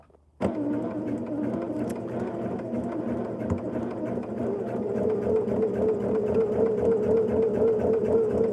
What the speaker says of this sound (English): we're going to sew on that line between 1 and 2